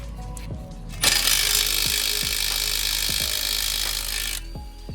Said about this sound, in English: next you want to remove these two strut bolts right there.